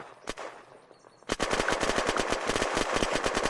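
Gunfire in the video game Unturned during arena PvP: a single shot, a short pause, then a sustained burst of rapid automatic fire continuing loudly to the end.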